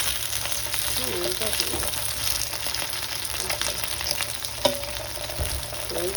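Chicken cooks in sauce in a pan with a steady sizzle and bubbling, punctuated by occasional stirring clatter and a sharp knock; a voice speaks briefly.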